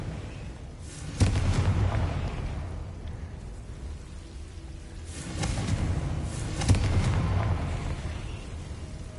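Two deep booming blasts from a Confringo fire spell in Hogwarts Legacy, each a sudden low burst that rumbles and slowly fades, the second about five seconds after the first, with no talk.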